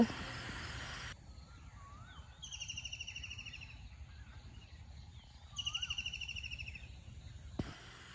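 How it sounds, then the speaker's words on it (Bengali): Birds in open village countryside give two bursts of rapid repeated chirping trills, moderately distant over a quiet background, with a few softer calls between them. "পাখিগুলো ঝাঁক দূরে উড়ে গেল"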